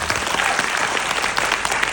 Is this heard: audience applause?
yes